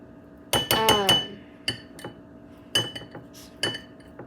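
A metal tablespoon clinks against a glass jar while scooping peanut butter for no-bake granola bars: a quick cluster of bright clinks, then scattered single taps, close and clear with no talk.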